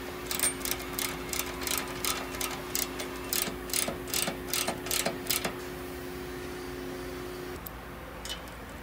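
A ratchet tightens the upper and lower hinge bolts on an ACE stand-alone Jeep JL tire carrier. It gives a close run of quick, evenly spaced clicks over a steady hum, then stops and leaves a quieter tail.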